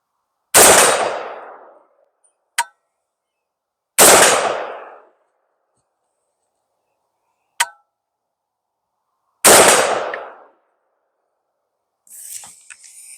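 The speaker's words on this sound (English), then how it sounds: "I'm going to start out with the Beretta BAR 15, this one in" Three sharp rifle shots from a Beretta BAR 15 in 5.56, each a loud, close crack with a decaying tail, spaced about four seconds apart, and each followed by a faint metallic ping of steel being hit.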